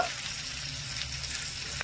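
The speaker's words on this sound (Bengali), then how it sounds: "আর দিয়ে দেবো 1 টেবিল চামচ কাঁচা লঙ্কা কুচি। হালকা নেড়ে ছেড়ে একটু ভেজে নেব।" Chopped green chillies with grated ginger frying in a pan for a vegetable chop filling give a soft, steady sizzle, fairly faint and close, with one small scrape near the end and no talk.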